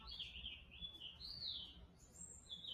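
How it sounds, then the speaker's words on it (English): Outdoor birdsong of bright chirps and high warbling phrases repeating through the moment, clear and fairly near over a quiet background hush, with no voices. "I love that bird that's like coming through now."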